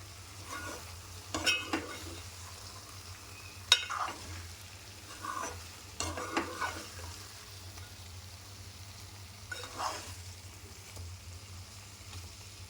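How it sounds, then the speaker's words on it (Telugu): Brinjals simmer in masala in a pan, giving a soft continuous sizzle with a few scraping stirs of a spoon, quiet and close with no voices. "మొత్తం ఒక రెండు నిమిషాలు ఆ మసాలాలో ఈ వంకాయలని ఉడకనిచ్చేసుకోవాలి"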